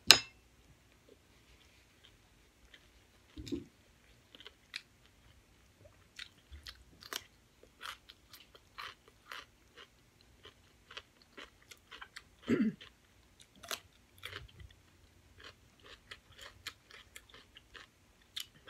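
Someone chews fried rice mixed with shrimp paste chili sauce, served with a crispy fried egg: soft, close, irregular crunchy bites and mouth clicks scattered over quiet, with a couple of louder crunches.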